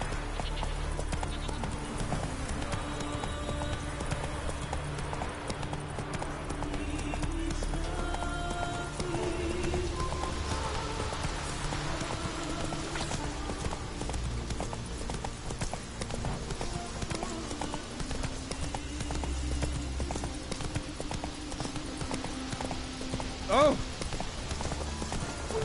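A horse gallops with continuous rhythmic hoofbeats in The Witcher 3, steady and moderately loud beneath game music, rain-like ambience and occasional talk, with a brief whinny near the end.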